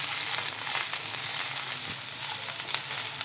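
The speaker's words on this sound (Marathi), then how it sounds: "आता अगदी 1 मिनिट आपण हे परतून घेऊया।" Sliced onion, coriander and coconut pieces fry in hot coconut oil with a continuous close, bright sizzle and a few stirring scrapes, heard alone.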